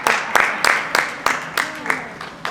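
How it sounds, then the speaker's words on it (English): An audience at a school ceremony honoring a New Jersey principal claps in a burst of applause, a series of sharp, fairly rhythmic claps repeating about every third of a second, close and loud. "Another round of applause for our Assemblyman Director Coach Benji E."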